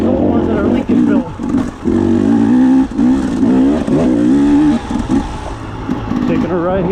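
A KTM dirt bike rides woodland trails, its engine revving up and down in loud, uneven surges as the throttle opens and closes, with a voice faintly under the engine.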